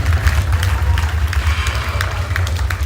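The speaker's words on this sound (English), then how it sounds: "Let's get a big round of applause for Mr." Banquet audience at a convention fundraiser applauding, a busy continuous patter of clapping in a large room with heavy low rumble underneath.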